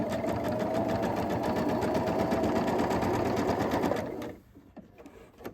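A sewing machine stitching a quilt block runs as a steady, loud, continuous whirr for about four seconds, then stops, leaving faint rustling and small handling clicks.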